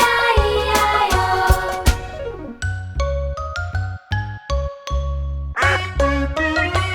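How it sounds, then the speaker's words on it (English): A cartoon-style duck quacks in a farm-animal nursery song, a series of short, bright quacks set against a jingly musical backing that stops and starts. "With a quack quack here and a quack quack there."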